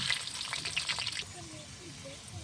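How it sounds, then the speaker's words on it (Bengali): Potatoes for chicken biryani fry slowly in oil, a close crackling sizzle that is busy at first and then settles quieter. "আস্তে আস্তে আলুটা ভেজে নিচ্ছি।"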